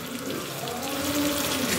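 Water being poured into a cooking pot in a home kitchen as a dish cooks, a steady close splashing stream that keeps going for nearly two seconds with no talk over it.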